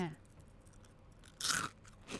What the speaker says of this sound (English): I was going to try this crunchy crouton, see how crunchy it